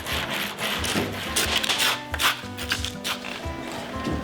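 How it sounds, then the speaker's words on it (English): An acrylic rubbing stone worked back and forth on a countertop, giving a soft, uneven scraping rub in short strokes, fairly quiet and close. "it's an acrylic rubbing stone"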